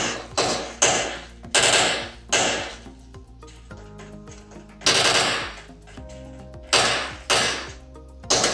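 Gunfire in PUBG Mobile played on an Asus ROG Phone 3: loud bursts of automatic shots in a repeating rhythm, with sharp decaying cracks and brief quieter gaps between volleys.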